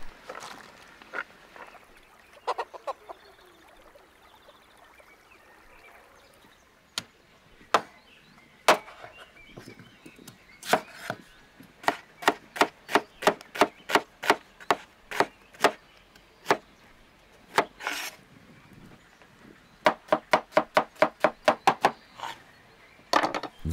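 Onion is chopped with wooden utensils on a wooden surface: crisp, close knocks come in quick, steady runs broken by short pauses, with no talking.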